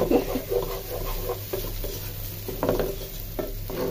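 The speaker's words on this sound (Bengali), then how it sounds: "পোলার চাল একেবারে ভাজা ভাজা হয়ে গেছে" Rice for pulao frying in a pot while being stirred, close scraping strokes in an irregular rhythm over a low sizzle, loud and alone.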